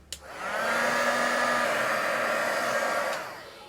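A handheld hair dryer blows air over a mixed-media craft book page, clicking on, then a steady, close whooshing whine holding for about three seconds before winding down.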